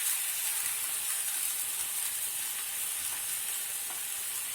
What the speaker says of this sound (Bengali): এটা ভালো করে ভেজে নেব।